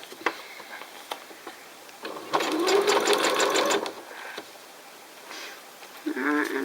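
A sewing machine stitches elastic in a quick, close burst of rapid even needle clatter lasting about a second and a half, with short pauses, faint handling clicks and a brief second run near the end.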